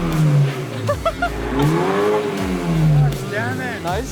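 BMW 328i F30 with a straight-piped exhaust, no resonator or muffler, revving loudly nearby in repeated rising and falling pulls, with brief spoken reactions over the engine.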